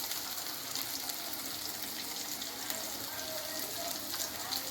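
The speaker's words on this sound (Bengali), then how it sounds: "আর আলুগুলো ভাজা চলছে।" Potatoes fry in a pan in a home kitchen, a steady soft hiss and sizzle running without pause throughout, fairly quiet and close.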